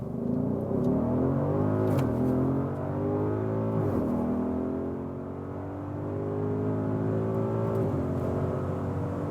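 A 2021 Audi SQ7 with a 4.0 V8 accelerating hard, its engine note climbing steadily through the gears with brief dips at each shift, loud and continuous from inside the car with no talk.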